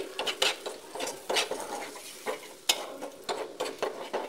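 Ginger, garlic, coriander, cumin and garam masala being stirred in a pot for chicken rezala, with repeated scraping strokes and soft clinks of a utensil over a faint sizzle, fairly quiet and close.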